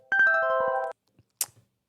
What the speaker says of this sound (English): The alarm keeps ringing